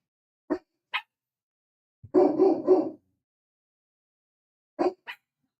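Several dogs let out a few short, sporadic barks and yips, with a brief cluster of barking in the middle and quiet gaps in between.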